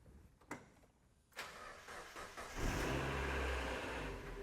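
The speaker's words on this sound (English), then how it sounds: "Get the car started" A cheap auction car's engine cranks with a couple of faint clicks and whirs, then catches and settles into a steady, rumbling idle close by.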